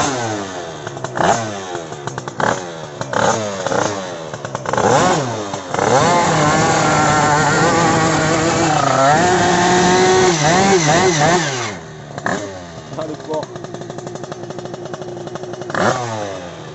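A Booster scooter fitted with a 100cc kit engine starts with a few sputters, then revs hard in a loud, buzzing two-stroke whine that rises and falls, dropping back to a choppy idle before more blips.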